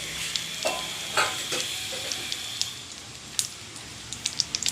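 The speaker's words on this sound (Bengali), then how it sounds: "তেলের ওপর শুকনো লঙ্কা ফোড়ন দেব, গোটা জিরে দিলাম" Dried red chillies and whole cumin seeds crackle in hot oil for a Bengali fig curry, a soft steady sizzle broken by sharp pops and spits scattered throughout, with occasional stirring.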